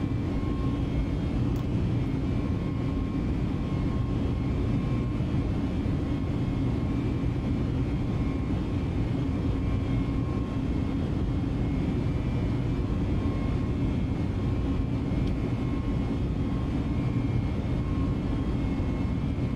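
Airliner engines in Microsoft Flight Simulator roar at a steady, broad rumble through a go-around climb after an unstable approach, constant and loud for the whole stretch with no voices.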